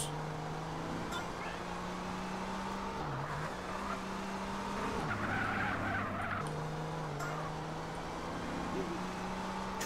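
Race cars in GTA San Andreas roar with steady engine drones while tires skid and squeal, the engine pitch shifting at gear changes, under a continuous loud game mix.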